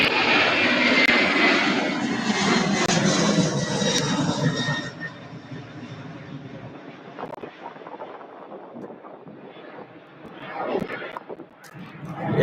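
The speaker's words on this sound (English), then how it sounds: "And here's our A300." An Airbus A300 jet passes at Louisville airport, its engines a loud, broad roar for the first few seconds that then drops to a lower, more distant rumble with a brief swell near the end.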